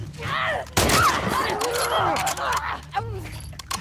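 Loud bursts of gunfire and explosions from the video game The Last of Us Part II fill the clip, with a voice talking over the chaotic, continuous shooting.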